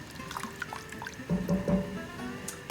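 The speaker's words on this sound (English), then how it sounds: "Then I have another coconut milk. Go in there, 2 cans." Canned coconut milk pours from two cans into a pot of green curry with shrimp, making a quiet, short glugging splash midway, surrounded by faint drips and kitchen noise.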